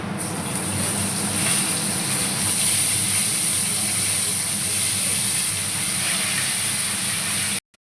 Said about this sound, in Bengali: কপিগুলো আমি ভাজছি, ঝোলের কপি।